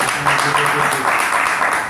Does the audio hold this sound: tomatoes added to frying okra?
no